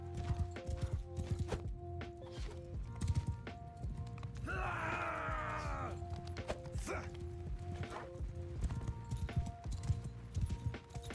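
Horse hooves clip-clop in a SnowRunner game, a steady rhythmic trotting layered with mechanical game noise and a brief neigh-like whinny midway, with someone talking over it.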